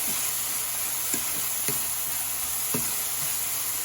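Chicken fries in a pan with lemon juice added, giving a steady, close sizzle throughout, broken by a few soft stirring scrapes.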